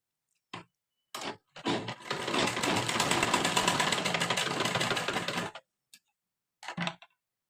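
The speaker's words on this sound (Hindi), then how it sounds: "इस तरह से लगाने के बाद ये दोनों साइड को हमें सीधी सिलाई लगानी है" A sewing machine runs a straight seam on a lehenga blouse in one steady, continuous burst of about four seconds, with brief handling knocks before and after.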